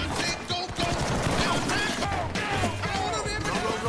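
Gunfire in an action film shootout as an armed group besieges a team at dawn, a dense continuous barrage of shots and mechanical clatter filling the whole stretch, loud and close with no clear pauses.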